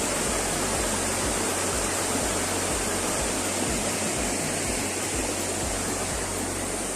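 Water rushes steadily and loudly, a continuous broadband roar without pauses, like a fast river or stream close by.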